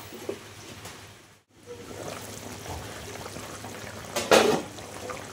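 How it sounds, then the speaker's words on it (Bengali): Curry with elephant-foot yam bubbles faintly in a covered pot, a soft, continuous burble that drops out briefly before a short louder splash of liquid near the end, with no talk. "তরকারিটা তো ফুটছে টকবক করে"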